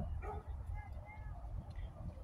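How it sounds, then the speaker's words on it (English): Dogs barking and yipping outdoors during a hot summer day, a few quick high barks and whimpers sounding faint and distant while a person talks over them. "dang, Macho, the dogs are really something"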